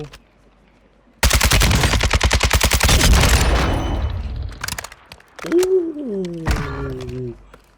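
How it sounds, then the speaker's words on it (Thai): Rapid automatic gunfire in Warzone 2.0 rattles loud and close through a wall for about four seconds. It trails into scattered shots and then a voice shouting out. "วอลแบงทะลุกำแพงไปได้เลยว่ะเฮ้ย"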